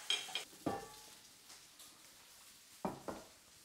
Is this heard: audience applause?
no